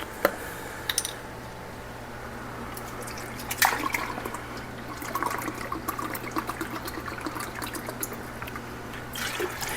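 A steady liquid stream of pineapple juice poured into a container for barbecue sauce, a soft continuous trickle and gurgle lasting several seconds, quiet and close with no talking.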